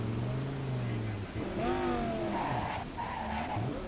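Car tires skidding and squealing in Cyberpunk 2077, with sustained gliding squeals that bend in pitch over a steady engine drone, close and prominent.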